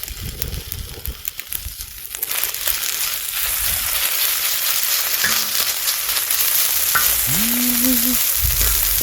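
Steady, loud sizzling of rice stir-frying with oyster sauce in a hot pan, with scraping stir sounds; a short tonal beep rises near the end.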